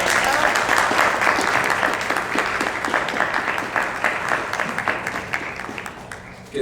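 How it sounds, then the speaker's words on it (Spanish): A hall audience applauds steadily for Miriam Solís Flores as she receives recognition at a women-leaders panel on artistic and cultural production; dense, even clapping that holds for the whole stretch and tapers slightly near the end. "pido por favor un fuerte aplauso para Miriam Solís Flores"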